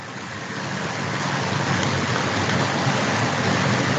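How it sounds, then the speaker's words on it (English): Monsoon rain falls steadily, a dense, constant hiss that builds slightly at the start and then holds at an even level throughout, with no voices. "There's a rain coming down."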